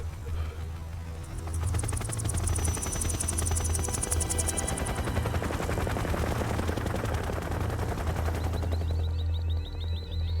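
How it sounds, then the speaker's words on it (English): Helicopters and gunfire in Metal Gear Solid 3, with rapid machine-gun bursts rattling over a constant rotor drone and deep rumble, loud and continuous. "It's only some choppers, apparently."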